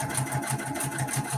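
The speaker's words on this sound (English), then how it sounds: "Go over it about 4 or 5 stitches." Sewing machine stitching a small quilt, a rapid even mechanical chatter of needle strokes at a steady rhythm, close and moderately loud, alone.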